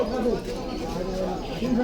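Pigeons for sale at a pigeon market coo in low, rolling calls that swell and fade, close by, with someone talking over them throughout.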